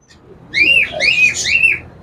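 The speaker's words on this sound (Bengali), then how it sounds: "এখানে কিছু বার্ডস আছে, বাজরিকা পাখি" Budgerigars chirp and squawk in a bird shop, a run of bright warbling calls in quick succession, fairly close and clear over a low background murmur.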